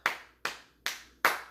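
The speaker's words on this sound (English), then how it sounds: "Clap it up for T-Pain because he won." Four sharp hand claps in a steady, evenly spaced rhythm, close and crisp, each with a quick fade, with no talking.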